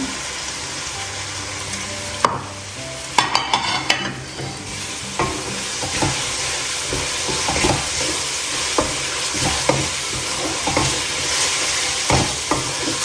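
Curry leaves and green chilies fry in hot oil for a pork roast, with a steady close sizzle, stirring scrapes and a few sharp clatters of the spoon against the pan, no talking.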